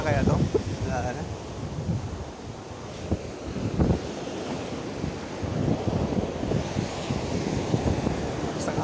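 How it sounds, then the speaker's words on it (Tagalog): Sea waves wash and roll near a fishing spot, a continuous surf rumble with wind buffeting the microphone, and people talk faintly over the water. "Basta alon eh."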